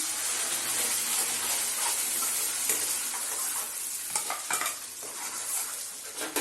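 A ground paste of tomato and green chili is stirred into frying dal for dal makhani, a steady sizzle with scraping stirs that turn busier and clatter more toward the end, close up and without speech.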